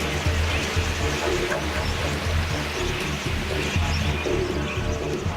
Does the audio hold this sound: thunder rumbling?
no